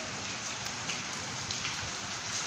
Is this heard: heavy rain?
yes